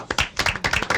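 An audience applauds to welcome a panel of guests at a televised journalism and digital communication event, a brief, close burst of clapping hands.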